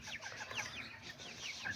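Kikiriki and Azteca chickens and roosters cluck and chirp in a busy overlapping flock, several birds calling at once, fairly faint and at a middling distance.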